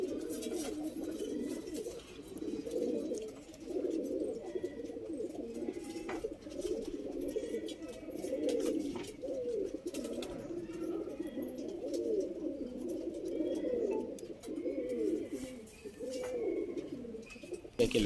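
Pigeons in a loft in RT Nagar, Bangalore, keep up a low, continuous rolling cooing from several birds close by, with faint chirps and small noises scattered over it.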